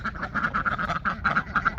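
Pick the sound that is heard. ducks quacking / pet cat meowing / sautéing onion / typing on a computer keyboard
ducks quacking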